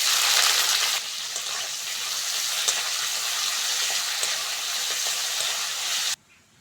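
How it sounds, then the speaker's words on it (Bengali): Green chillies and chopped onion hit hot oil spiced with dried chillies, bay leaves and whole cumin, sending up a loud, steady hissing sizzle that softens slightly, then cuts off abruptly near the end. "এইবার দিয়ে দেবো কাঁচা লঙ্কা আর কুচনো পেঁয়াজ।"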